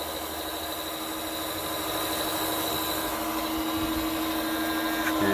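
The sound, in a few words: oil extractor sucking remaining oil from oil filter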